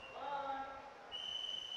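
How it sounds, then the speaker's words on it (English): A referee's final whistle at an ABU Robocon 2025 India semi-final gives a sustained, shrill blast in the latter half, over a murmur of crowd and voices. "we'll have the final whistle by the team referee"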